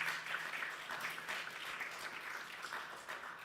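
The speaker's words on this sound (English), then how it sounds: "would you please allow for this one Sabbath just to acknowledge them by clapping" A church congregation gives a soft, steady round of applause for its Pathfinder and Adventurer volunteers, the clapping faint and distant throughout.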